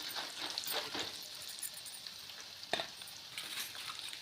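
Dried red chillies fry in a pan with a soft, steady sizzle and crackle, faint and close, with a small clink near the middle and no talk.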